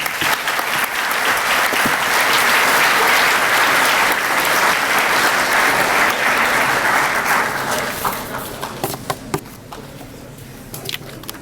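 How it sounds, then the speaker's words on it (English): Loud, dense applause from a crowd at a school awards assembly, steady for several seconds, then thinning into scattered claps toward the end. "let's give one more round of applause to all of our recipients this morning"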